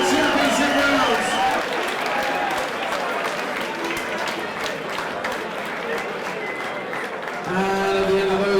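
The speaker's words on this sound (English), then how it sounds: "a massive round of applause for both of these ladies after 4 excellent white collar championship rounds" Crowd applause fills the room after a four-round women's white collar championship boxing bout in London, a dense steady wash of clapping and cheering lasting several seconds, with an announcer's voice over it at the start and end.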